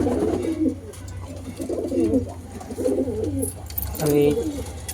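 Pigeons coo in repeated low, throaty phrases close by, several rolling calls spaced across the clip over a faint background hum, with a brief higher sound near the end.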